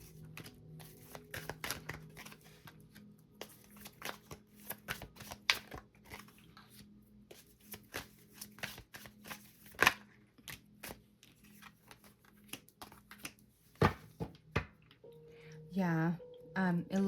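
Tarot cards are shuffled in quick, crisp riffles and taps, with soft slaps as cards land, close and fairly quiet, broken up by short pauses and a voice speaking near the end.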